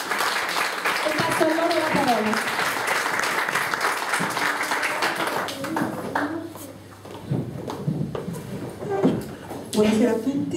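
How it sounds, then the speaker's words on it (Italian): An audience at an Italian talk applauds a professor: a dense, steady burst of clapping from a roomful of people that fades after several seconds into scattered claps, murmuring and voices. "Facciamo ancora un applauso per la professoressa Maria Pia Moresano."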